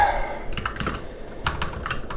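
Typing on a computer keyboard at a workstation, a steady run of quick close key clicks with small bursts and pauses, no voices.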